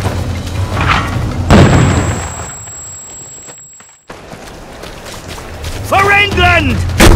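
A grenade blast booms amid shouting soldiers in the We Happy Few game, a loud low burst cutting through the chaotic voices of combat.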